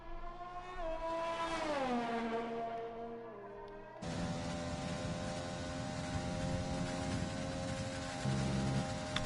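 A race car in a PS4 racing game brakes and downshifts for a turn, the engine note sliding down in pitch, then a sudden cut to a steady rougher engine roar at moderate level.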